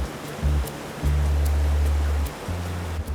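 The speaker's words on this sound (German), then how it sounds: "Der kleine Bach auf dem Weg zur Notunterkunft wird zum Problem." A small stream swollen by heavy rain rushes through the wilderness on the way to an emergency shelter, a steady broadband roar of water with low thumping surges, close and continuous.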